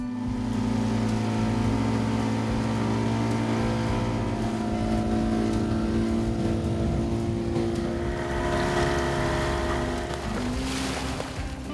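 A motorboat engine runs steadily out on the water, a constant loud droning hum with a faint wash of water and wind, swelling slightly near the end with no voices.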